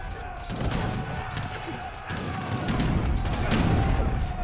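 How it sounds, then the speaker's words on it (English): Cannon fire in Age of Empires 3 during a tournament battle: a dense run of booming shots and thuds layered over general battle noise, fairly loud and continuous. "His cannon shots were not the best."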